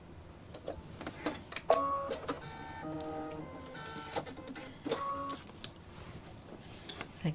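An embroidery machine stitches out a Christmas gift tag design nearby, giving a steady mechanical chatter of needle strokes with short pitched whirs and clicks as it moves, and no voices.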